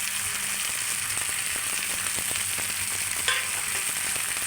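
Washed moringa leaves fry in a pan with a steady, dense sizzle and faint stirring scrapes, close and continuous throughout.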